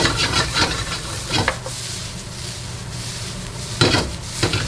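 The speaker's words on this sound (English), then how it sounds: "We'll let that saute for about a minute." Boudin Creole sausage, removed from its casing, sautés with garlic in a hot pan, giving a steady close sizzle broken by bursts of scraping and stirring near the start and end.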